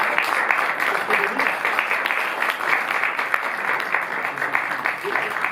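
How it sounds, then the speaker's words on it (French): An audience at a Paris cinema premiere screening of "Mon nom est personne" claps in a dense, continuous burst of applause, with voices mixed in beneath the clapping. "je vais demander à applaudir à Alexandre"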